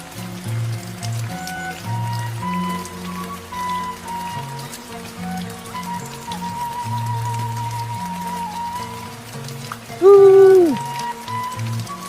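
Steady rain patters and hisses throughout in a village, with background music and a brief tonal sweep near the end.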